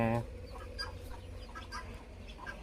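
Chickens and chicks cluck in short scattered calls at moderate distance, heard faintly against a low background rumble, with a brief louder burst at the start.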